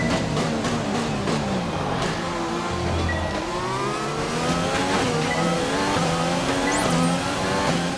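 Formula 1 race car engine from the F1 2020 game screams through a lap, pitch rising and falling with repeated upshifts and downshifts, loud and continuous with occasional tire squeal.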